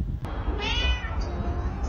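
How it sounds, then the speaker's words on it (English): A cat meows once, a short rising cry heard over a low background rumble and some overlapping voice. "This racist ass cat."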